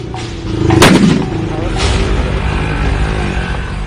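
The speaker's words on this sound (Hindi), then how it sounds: "भारत के किसान सद्दाम छाप एटम बम यानी पटाखे का इस्तेमाल भी कर रहे हैं" A single loud firecracker blast cracks out close by in farm fields, followed by a lingering rumble and a second duller pop, with no talking.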